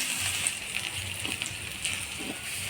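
Crushed garlic and black cumin sizzling in hot tempering oil in a kadai, a continuous rain-like crackle with occasional soft pops and stirring sounds, heard alone at close range.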